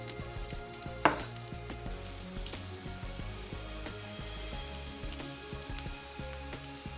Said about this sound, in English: Now tomatoes also, you either need a really sharp knife or you can use a serrated edge knife.